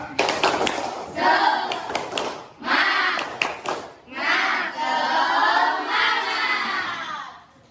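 A classroom group performs a rhythmic spirit clap, several bursts of sharp patterned clapping mixed with voices shouting along, close and lively with brief pauses between rounds.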